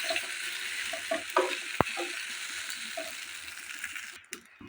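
Leftover rice frying without oil in a wok for breakfast, a soft continuous sizzle with light scraping stir strokes and one sharp metallic clink, close up and fairly quiet.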